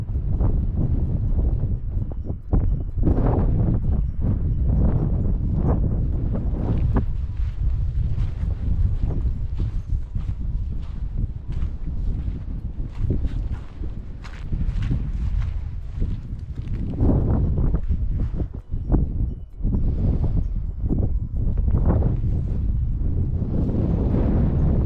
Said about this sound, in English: It's a bit windy up here, but still quite warm.